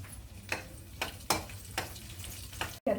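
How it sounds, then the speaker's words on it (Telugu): Curry leaves and dried red chillies frying in hot oil, a close crackling sizzle with several sharp spatula stirs at regular intervals, ending abruptly. "కరివేపాకు, ఎండుమిర్చి వేసుకొని వేయించేసుకుందాం."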